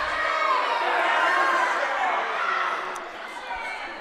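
An incensed crowd at a girls' high school basketball game in a gym, Rhinelander at Mosinee, produces a sustained roar of shouting and jeering that fades slightly toward the end, with a faint squeak or whistle-like blip.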